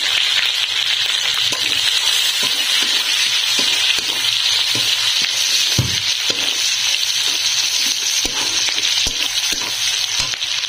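Chopped onion and ground spices fry loudly in a pan for a fig and shrimp curry, a dense continuous sizzle with frequent metallic scrapes and clicks of stirring, near and alone.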